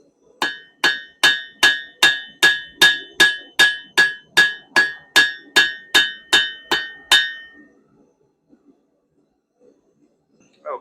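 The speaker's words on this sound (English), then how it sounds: "using the cross beam of the hammer, add some veins to the work." A blacksmith strikes a forged leaf with the cross peen of a hammer to add veins: about eighteen crisp, ringing metallic blows in a steady, even rhythm, close and loud, then silence.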